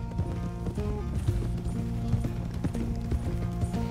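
Horse hooves clip-clop at a steady walking pace in Red Dead Redemption 2 as riders near the stables, with a constant ambient bed and faint game sounds underneath.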